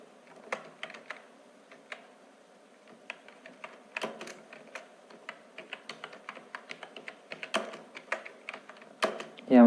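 Keys clatter on a computer keyboard while a biodata is typed in Microsoft Word, a close run of quick, uneven keystrokes in bursts with brief pauses.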